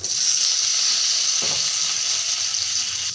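Potato pieces hit hot oil seasoned with panch phoron, a dried red chili and a bay leaf, giving a loud, steady sizzle close by with a brief clatter midway.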